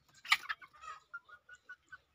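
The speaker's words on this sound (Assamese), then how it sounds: "মুৰ্গী চৰাইবিলাকে খাই আছে।" Farm hens, part of a flock of about 600 let out to forage, cluck in a run of short, close calls while pecking at insects among bottle gourd plants, with a louder burst of clucking at the start.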